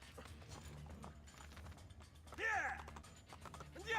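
Horse riding in Assassin's Creed II, rapid mechanical clip-clop hoofbeats running steadily and quietly, with a couple of brief louder rising whinny-like cries over the galloping.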